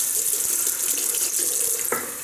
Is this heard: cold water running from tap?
yes